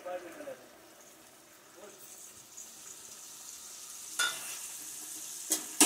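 A fish egg curry broth simmers on the stove, giving a soft, steady bubbling sizzle with a few sharper stirring scrapes and clinks near the end.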